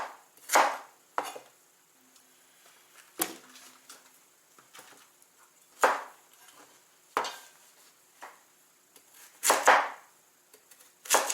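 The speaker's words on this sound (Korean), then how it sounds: "이렇게 큼직큼직하게 썰어주시면 됩니다" A knife chops vegetables into large chunks for a blender on a board in about eight separate sharp cuts spaced irregularly, with quiet gaps between strokes and no talking.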